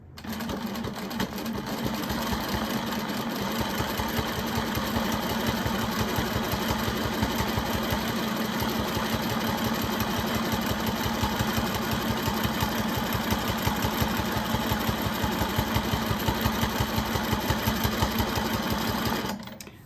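Sewing machine stitching fabric in a fast, even mechanical rhythm, running loud and continuous for nearly twenty seconds with a steady motor hum under the rapid needle strokes.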